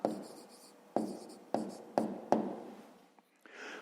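Pen on paper writing maths answers: five distinct scratchy strokes, each starting with a sharp tap and fading, spaced about half a second apart, close and fairly quiet, followed by a brief soft rustle.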